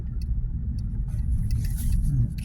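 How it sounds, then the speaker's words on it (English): A security car driving past on a city street by a museum, a low engine rumble that swells as it nears, with faint background sounds. "There's another security car."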